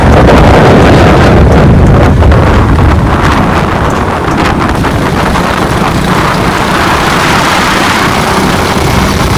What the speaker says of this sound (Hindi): बड़ी ठंडी हवा चल रही है